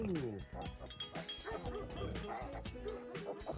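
A puppy yips and barks in short bursts with some whimpering, mixed in with a person talking and other background noise.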